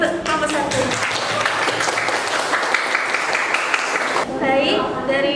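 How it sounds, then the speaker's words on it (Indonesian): A classroom group claps for students who have just finished their presentation, a steady patter of applause throughout with talking over it. "Beri tepuk tangan untuk kelompok 1."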